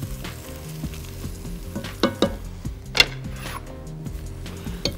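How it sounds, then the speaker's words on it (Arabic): Flour and vegetables frying in a pot while being stirred: a quiet steady sizzle with soft scrapes and occasional clinks of the spoon against the pot, and music playing underneath. "ونقلب كده ونخلي الدقيق يتحمر مع الخضار شوية"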